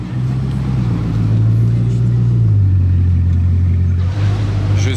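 A Bugatti Chiron supercar passes on the road, a loud, deep engine roar that swells and holds close by, its low drone shifting downward in pitch as it goes by.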